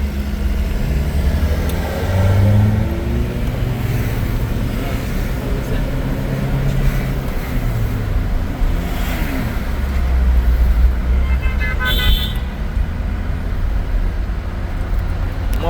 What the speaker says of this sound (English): So I drive through Montego Bay right now.